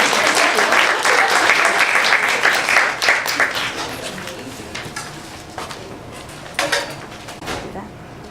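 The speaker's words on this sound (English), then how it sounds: "This is when you guys applaud." Classroom applause after a student group presentation, dense clapping at the start that thins and fades over several seconds, with chatter and a few scattered claps toward the end.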